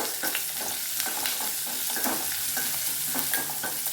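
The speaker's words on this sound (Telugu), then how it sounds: "కొద్ది కరివేపాకు, ఆనియన్స్. చూడండి, కొద్దిగా ఇంగువ 1/4 స్పూన్. చూడండి, వేపుకుందాము" Curry leaves, onions and a pinch of asafoetida fry in hot oil for a daily chutney, giving a steady, close, dense sizzle broken by regular scraping stirs of a spoon in the pan.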